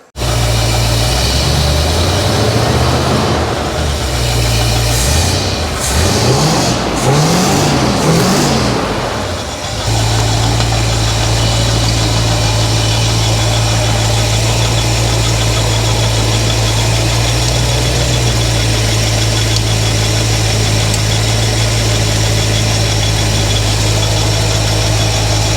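A project car called Monarch runs after being finished, its engine revving unevenly for the first several seconds before settling into a steady, close, rumbling idle that continues to the end.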